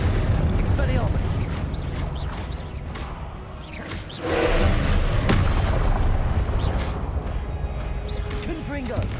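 Confringo explosive spell blasts in Hogwarts Legacy, with dense rumbling booms and crackling impacts through a loud battle, and a swell of blasts near the middle.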